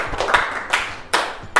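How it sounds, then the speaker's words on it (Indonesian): A chemistry class gives a student group presenter a brief round of applause, with short, loud bursts of hand claps close by and no talking. "Kasih aplaus dulu."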